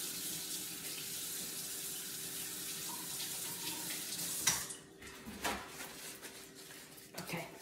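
A kitchen or bathroom tap runs steadily as water gushes into a sink for a brush during a Christmas tree skirt craft session, then cuts off midway, leaving a few faint clatters and handling sounds.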